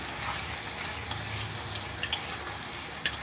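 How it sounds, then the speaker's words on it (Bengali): Ginger-garlic paste frying and being stirred in a pan while cooking chicken, a steady soft sizzle with a few brief scraping clicks of the spoon, fairly quiet and without talk. "আদা রসুনের পেস্টটা ভালো করে কষাবো যাতে কোনো রকম কাঁচা গন্ধ না থাকে"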